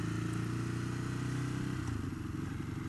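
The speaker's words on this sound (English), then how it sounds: "If you can adjust to the talkiness of this engine," A Ducati Hypermotard 821 motorcycle engine idles and runs close by, a dense, throbbing low rumble with mechanical clatter, steady and loud for the whole stretch with a slight change in tone near the end.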